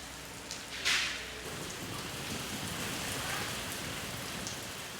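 Rain shower pours steadily onto hard surfaces at a harbor fish market on Ulleungdo, South Korea, a dense, even patter with a brief louder splash near the start.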